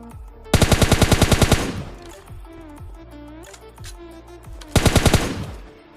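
M416 and AKM fire in PUBG Mobile Lite: two loud, rapid automatic bursts, the first about a second long and the second shorter, separated by quieter in-game clatter and footsteps.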